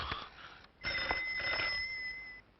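A telephone rings on a call with a bright, sustained electronic trill, briefly cutting out and then resuming in a second long ring, heard at moderate volume in a quiet room.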